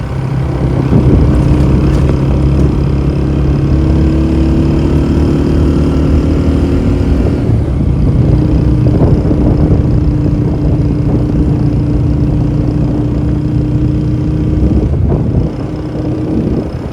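A motorbike engine runs steadily on the road toward Naran, a continuous loud drone with wind rush and no talking over it.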